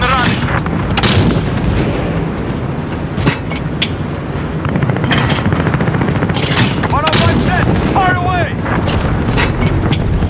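Chopper Gunner in Call of Duty Modern Warfare rattling out dense, continuous heavy gunfire and booming explosions, loud and close throughout, with radio chatter and game voices mixed in.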